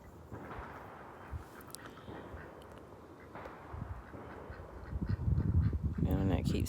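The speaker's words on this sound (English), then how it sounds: "These birds is crazy." Birds calling outdoors, with duck-like quacks and honks growing louder toward the end over a steady background of ambient noise.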